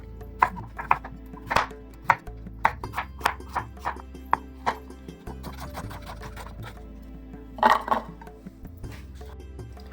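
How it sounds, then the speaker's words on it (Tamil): A knife chops yellow pumpkin on a board for a mixed vegetable gravy, giving about a dozen crisp, close thuds in an uneven rhythm, with a small cluster of cuts near the end. "நெக்ஸ்ட்டு அரசாணிக்காய் கட் பண்ணிடலாம்."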